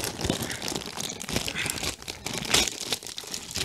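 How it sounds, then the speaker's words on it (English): Plastic packaging of a Safari Ltd. Gripposaurus figure is ripped and crinkled open close up, a dense run of crackling, tearing bursts lasting a few seconds. "And the plastic is torn"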